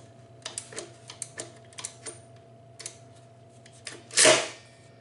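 A ratchet lock in a 25-cent palm reader coin mechanism clicks as a coin is pushed through, giving a run of close, sharp, irregular clicks that ends in a louder mechanical clunk.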